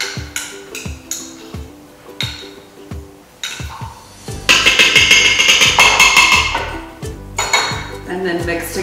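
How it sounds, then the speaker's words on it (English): A spoon clanks and scrapes against a metal Instant Pot insert while a thickening mixture is stirred into turkey pot pie soup, with sharp clinks at first, then a denser run of rattling and scraping, loud and close. "And then mix together."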